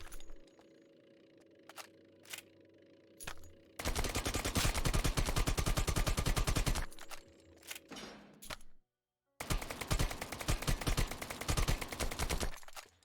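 Weapon fired on the range in the video game Lost Light, long sustained full-auto bursts of loud rapid gunshots, separated by quieter stretches of clicks and a brief silence.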